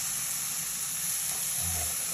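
Tomato melting in a hot pan for spicy adobong pusit, a steady soft sizzle and hiss of frying with a faint low bubbling near the end.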